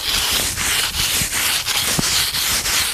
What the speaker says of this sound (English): you can take belt sander and start to sand this